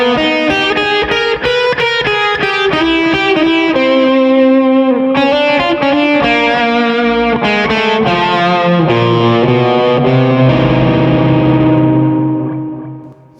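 Electric guitar with distortion and echo plays a fusion blues cadence in a 12-bar blues, a run of sustained, ringing notes leading into the 5 chord, loud and alone, with the last note fading out.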